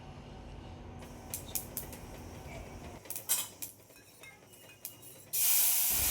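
Hing, curry leaves, garlic and turmeric sizzle in half a spoon of ghee in a kadhai, a steady hiss with clinks of a utensil against the pan and a louder burst of spattering near the end, close and without talk.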